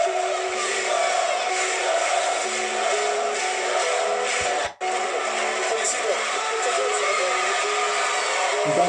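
A studio audience gives Don Francisco a sustained television ovation, a loud, continuous roar of clapping and cheering that fills the whole stretch, broken only by a brief dropout midway.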